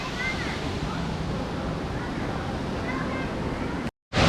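Water flows steadily along the lazy river at Dollywood's Splash Country water park, a constant close rushing wash with faint voices mixed in, then a brief cut near the end.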